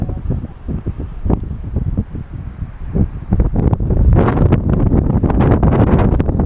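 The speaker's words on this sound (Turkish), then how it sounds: "şu an yine rüzgarın şiddeti arttı." Strong wind gusts roar against the microphone near a large wildfire in Çanakkale, Turkey, growing louder and more buffeting toward the end, with no one speaking.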